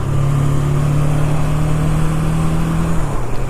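A 1980 Suzuki GS750 motorcycle engine with its stock exhaust, revving loud and close as a sustained steady drone that holds nearly level before dipping slightly near the end.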